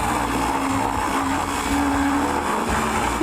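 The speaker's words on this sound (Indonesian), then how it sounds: "Sekarang kita taruh masing-masing ke dalam blender dan kita hancurkan" A kitchen blender crushing food pieces into crumbs gives a loud, continuous whining motor roar with shifting pitch throughout and no voices.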